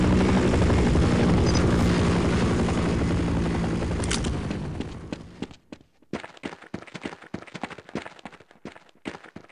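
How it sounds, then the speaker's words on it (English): In the Half-Life level Surface Tension, a hovering helicopter thrums loud and steady with rotor noise for about four seconds, then fades away, leaving scattered footsteps and clattering bursts. "the chopper's still there"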